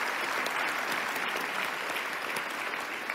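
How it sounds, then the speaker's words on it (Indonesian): A studio audience on a televised Indonesian talk show about law enforcement gives sustained, dense applause that stays even and full throughout, with no voices over it. "kita tepuk tangan buat Pak Mahfud"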